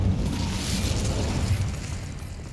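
A fire spell, Incendio, cast in the game Hogwarts Legacy: a sustained, dense fiery whoosh with a low rumbling roar that holds steady throughout and fades slightly at the end, with no voices.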